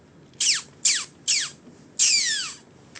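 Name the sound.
beatbox imitation of laser beam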